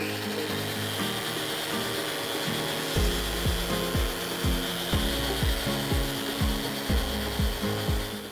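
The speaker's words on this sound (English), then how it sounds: "we're going to use the sander to get as close to flat as possible" A power sander grinds against wood close up, its steady whine overlaid with rhythmic rubbing strokes back and forth; no talking.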